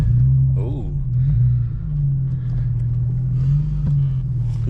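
An Infiniti G37 that needed a jump start pulls away, its engine giving a steady, close, low rumble that swells slightly and falls back without a sharp rev.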